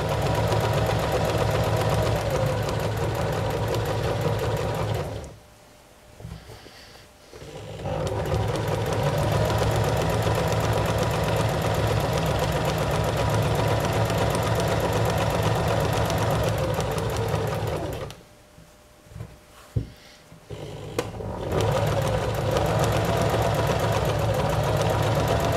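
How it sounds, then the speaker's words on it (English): Close and steady, a sewing machine runs fabric through for a drawstring bag, its continuous mechanical hum broken by two short pauses with faint handling clicks before the stitching resumes. "guiding our fabric nice and straight under the presser foot"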